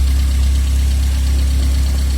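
A car engine idles steadily just after starting, a loud, even low rumble with a constant mechanical hum that runs unbroken the whole time, with no one talking.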